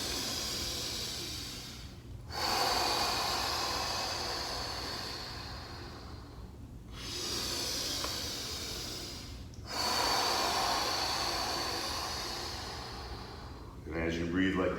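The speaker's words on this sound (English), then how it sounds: "Deep, powerful breathing." During a yoga class, a person takes deep, forceful breaths, drawing in through the nose and blowing out hard through the mouth. Three long airy exhales, each broken by a short pause, are heard close up, and a fresh inhale is starting at the end.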